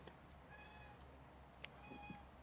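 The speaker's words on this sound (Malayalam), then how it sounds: "പൂച്ച സാറാ" A cat meows twice, soft and somewhat distant, against a steady background hum at a village-style eatery serving traditional home-cooked food.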